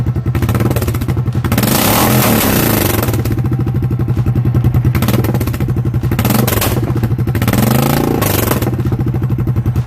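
A Suzuki Boulevard S40 650cc single-cylinder motorcycle engine runs steadily with a deep, thumping exhaust pulse, loud and close, with a few revs rising and falling over the steady idle-like beat.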